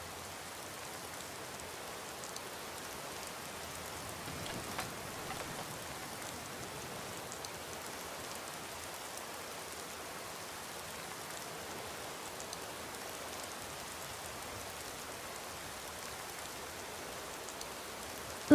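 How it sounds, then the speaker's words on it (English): Cold rain falling steadily in Skyrim Special Edition, a dense, even hiss of drops on the ground that runs unbroken, with no voices over it. "That is very cold rain."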